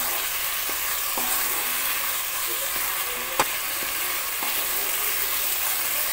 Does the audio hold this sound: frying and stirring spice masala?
yes